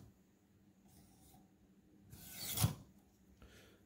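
A knife with a small burr is honed on the Warthog sharpener's two steel rods: a few faint, quiet strokes, then one louder, close rasping scrape, then a soft final pass.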